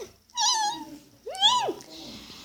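Two synthetic-sounding video game cat meows, the second rising and falling more sharply, with faint background noise between them.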